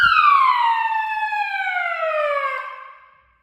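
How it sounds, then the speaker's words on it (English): A fire alarm siren sounds during a system test on Victoria Street in Auckland's CBD, a loud sweeping electronic tone that glides downward for about three seconds and then cuts off. "This is from the fire alarm."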